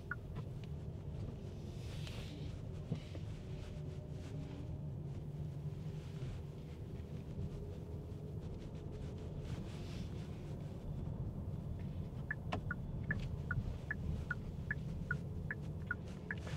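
Cabin noise inside a 2025 Kia K8 hybrid Signature riding on 19-inch wheels on city roads, a steady low road and tire rumble with faint wind, and a run of light ticking chimes near the end.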